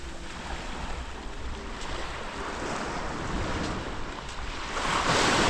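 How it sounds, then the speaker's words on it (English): Steady wash of surf breaking on Cat Co beach on Cat Ba Island, a continuous broadband roar with some wind buffeting, swelling louder near the end, with no voices. "So this is the beach."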